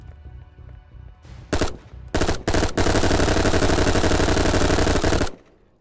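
Rapid machine gun fire with infinite ammo in a video game: a few short bursts open, then a long unbroken stream of loud, close automatic shots before it stops abruptly.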